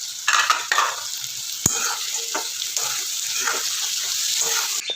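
Raisins and cashews fry in a pan with a close, steady sizzle, while a utensil stirs and scrapes through them, including one sharp knock early on.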